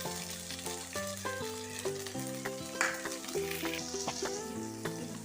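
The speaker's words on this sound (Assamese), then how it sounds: "যিহেতু তেল ফুটিছে, তাৰপিছত সৰিয়হ দিম। এয়া সৰিয়হ দি দিছোঁ।" Mustard seeds sizzling in hot oil in a pan while cooking an Assamese khar dish: a soft, continuous crackling fry sits under prominent tonal background music, with no speech.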